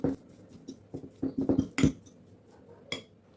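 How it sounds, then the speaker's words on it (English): A spoon clinks and scrapes against a bowl while mashing sardines for a spicy bread filling, with a run of quick close taps and knocks, a few sharper clinks, then a last single tap. "Here I have the sardines, and I'm going to squash this"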